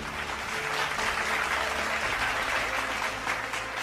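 Loud, sustained applause from a crowd at a Dhaka 2025 tiger-conservation fun run prize ceremony, clapping steady and dense throughout for the men's category second runner-up.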